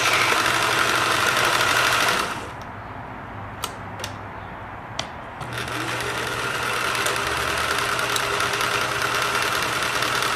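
A Singer 750 sewing machine runs close by with a steady whirring, mechanical hum. It drops quieter for a few seconds with a couple of small clicks, then speeds back up into continuous stitching.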